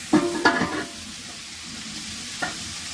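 Hog plums fry with jaggery in a pan: a couple of close stirring scrapes and a soft sizzle at the start, then a quiet gentle simmer with one more light knock near the end.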